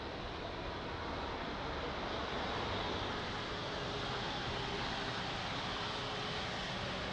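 A fixed-wing airliner landing at Lisbon Airport gives a steady, loud, broadband engine roar that stays even and close from start to end, with no talk.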